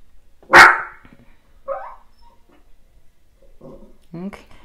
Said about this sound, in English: My dog is about to start barking again